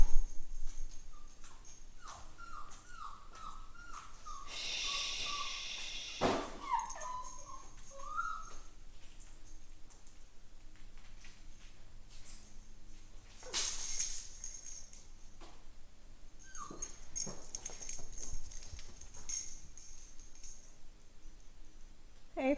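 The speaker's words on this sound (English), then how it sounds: "Don't bark. Don't bark. Don't bark." A dog whimpering and yipping indoors in a run of high, wavering whines, followed by a few short yips and a bark, close and fairly quiet, with occasional handling noises and little talk.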